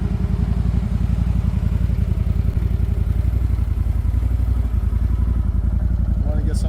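CFMOTO ZForce 950 HO side-by-side running on a spring trail, its engine giving a steady, close, low throbbing drone with light clatter throughout.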